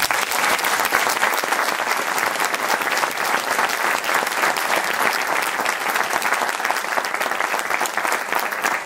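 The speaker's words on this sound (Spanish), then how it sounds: "Pido un aplauso para eles." Loud, sustained applause from a crowd, steady clapping throughout with no pauses.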